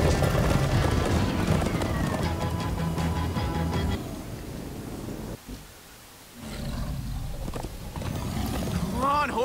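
Horses gallop in the video game Minecraft Story Mode, hooves drumming hard alongside a loud roaring rush that drops away briefly midway before building back up, with game characters speaking over it.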